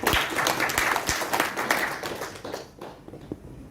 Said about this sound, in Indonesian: Bocah ajaib, berikan tepuk tangan.